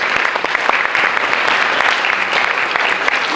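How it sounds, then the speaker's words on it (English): A crowd at a school honor society induction ceremony gives a round of applause, dense continuous clapping from many hands in a large room, steady and fairly loud with no talk on top. "give them a nice round of applause"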